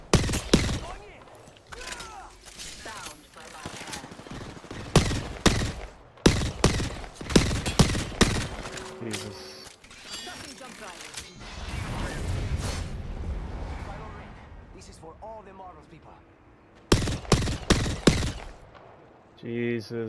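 Gunfire in the battle royale game Apex Legends, with several sharp bursts of automatic fire and single loud shots scattered between quieter stretches of movement and effects, while a player talks over parts of it.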